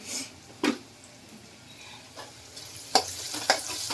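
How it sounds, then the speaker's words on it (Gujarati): Vegetable khichdi with cabbage and crushed peanuts sautéing in a pan: a soft, low frying sizzle broken by a few sharp spoon taps and scrapes against the pan, no voices. "હવે થોડુંક સાતળવા દીધું છે"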